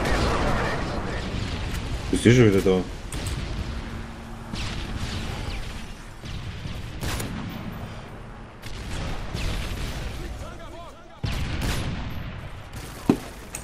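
Gunfire and explosions in the video game Call of Duty MW3, with bursts and single shots recurring throughout at varying distance, and several loud blasts standing out, under frequent casual chatter from players.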